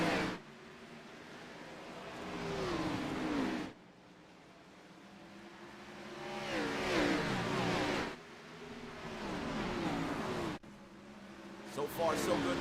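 Race trucks at Bristol Motor Speedway in a semi-final race, engines droning and rising in pitch as they accelerate off the start, heard loudly in several surges under continuous commentary.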